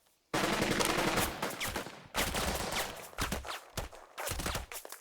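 Machine-gun fire in the WWII squad-tactics game Burden of Command, a loud sustained burst of rapid shots, then a few shorter bursts after a brief pause, close and alone.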